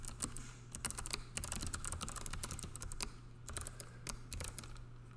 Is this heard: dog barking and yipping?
no